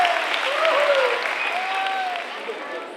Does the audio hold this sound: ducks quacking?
no